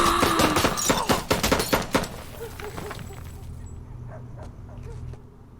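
A rapid burst of gunfire from the TV show Barry cracks loudly over the first two seconds, then fades into quieter scene sounds with a few faint knocks.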